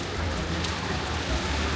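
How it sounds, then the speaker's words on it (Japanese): Light rain patters steadily outside an open hotel window in Rome, a soft, continuous hiss of drops on surfaces with faint low rumble beneath and no voices. "ちょっと雨音がしてますけど"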